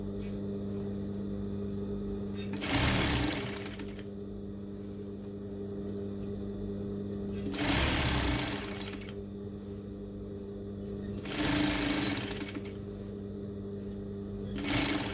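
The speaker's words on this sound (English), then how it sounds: "You continue sewing. Right together." A sewing machine stitches tablecloth fabric, its steady mechanical hum running throughout, with three or four louder bursts as the machine speeds up or the cloth is shifted at a corner.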